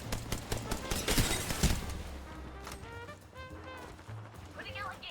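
Ballistic's smart bullets fire in Apex Legends as a rapid burst of sharp gunshots and impact cracks, loud and close, over a busy game mix with a voice talking.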